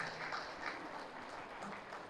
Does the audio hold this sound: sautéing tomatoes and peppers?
no